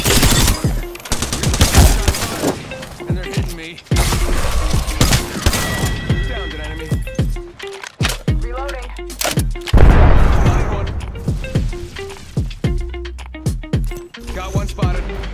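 Mozambique shotguns and other weapons fire in an Apex Legends match, sharp blasts in quick bursts among mechanical clicks and booms, with a voice talking over the gunfire.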